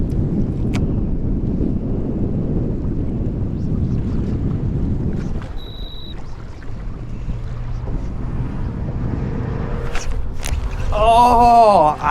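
Steady wind roars across the microphone while fishing in reeds, loud and constant at first and then easing, with faint splashes and brief bird-like chirps toward the end.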